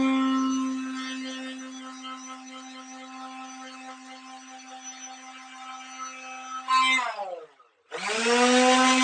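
Electric power sander running in a garage at night, a steady, loud motor whine that winds down and cuts out briefly before starting up again at full strength.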